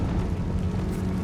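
A Confringo blasting spell explodes in the Hogwarts Legacy game, a dense, continuous roaring blast that fills the whole moment at steady loudness.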